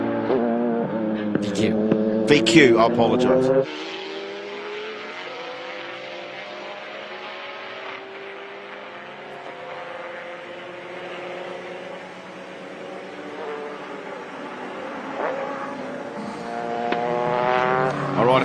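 An old VR-engined race car runs on a circuit during a time-attack event. Its engine note is loud and sustained, with strong harmonic tones, and a voice talks over the start.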